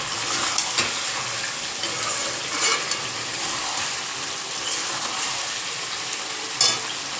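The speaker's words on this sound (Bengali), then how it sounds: "কষানো খুবই কোন পড়ে যাচ্ছিল মাংস কষানো চলছে" Meat being sautéed (kosha) in a pan, a steady close sizzle with occasional scrapes and taps of a stirring spoon, no voices.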